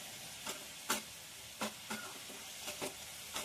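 Potatoes frying in a pan and being stirred, a faint steady sizzle broken by a handful of short scraping clicks spaced irregularly, quiet and close with no talk.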